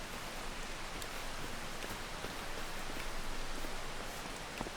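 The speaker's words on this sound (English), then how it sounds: "It's also a bit rainy." Steady rain in Farming Simulator 25, a dense, even hiss of falling drops that stays constant throughout, alone with no voices.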